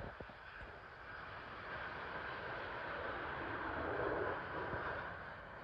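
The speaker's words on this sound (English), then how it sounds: "Coming in now is an American Airlines Boeing 787 from Chicago" An American Airlines Boeing 787 from Chicago landing at London Heathrow, a distant broad jet roar that slowly swells louder and then eases slightly, steady and without voices.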